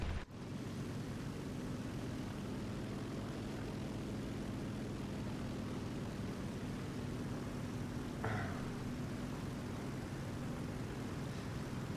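A called-in plane's propeller engine drones steadily in a video game, a loud continuous roar filling the whole stretch, with a brief bright burst near the end.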